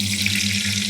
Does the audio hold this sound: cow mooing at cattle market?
no